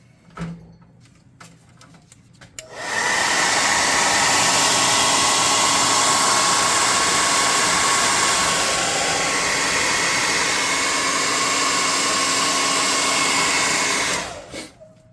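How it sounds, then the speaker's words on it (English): A compressed-air gun blasts a steady, loud hiss over a painted tabletop terrain column, starting abruptly after a few quiet handling clicks and cutting off near the end. "I'm going to air gun this quickly."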